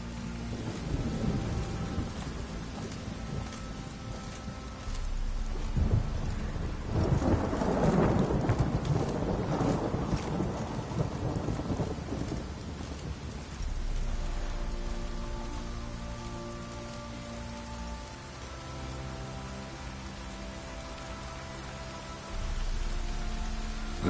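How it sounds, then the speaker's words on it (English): Rain pours steadily in The Witcher 3: Wild Hunt while rolling thunder rumbles up in a heavy swell midway, then fades back beneath the constant downpour. "Looks like rain."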